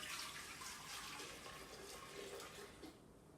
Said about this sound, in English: Now I'm going to pour this in here.